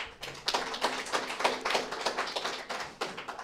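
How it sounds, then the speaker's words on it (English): Hand clapping from an audience at a roadshow presentation, a loose patter of claps rising and falling in bursts, moderately faint and without voices. "Let us once more give them a round of applause."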